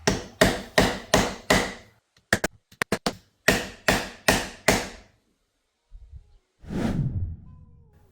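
Dead blow hammer pounding a fork seal home on a dirt bike fork: sharp, close blows in a steady run of five, a quick flurry of lighter taps, four more heavy strikes, then softer handling noise.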